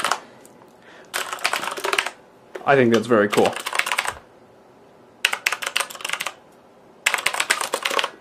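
Bursts of fast clattering keystrokes on a Corsair Vengeance K70 RGB mechanical gaming keyboard, close and crisp, separated by pauses, with someone speaking briefly between the typing runs.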